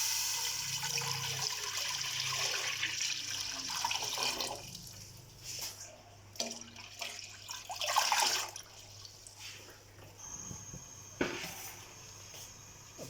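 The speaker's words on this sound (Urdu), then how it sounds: "تو اب اس میں ہم 2 لیٹر پانی شامل کر دیں گے۔" Two liters of water are poured into a karahi on the stove, a steady splashing pour that tapers into scattered drips and trickles, faint and close, with no talking.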